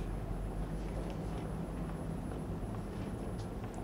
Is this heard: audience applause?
no